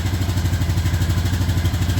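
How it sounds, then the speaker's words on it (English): A 2016 Honda Rancher ATV idles close by, its exhaust putting out a steady, loud, low thumping pulse with fast even firing beats and a light mechanical clatter, running alone without talk. "Now what you're hearing is the exhaust."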